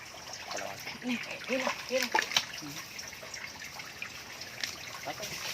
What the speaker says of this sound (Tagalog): Lakasan mo yung tubig doon, buksan mo para umagos.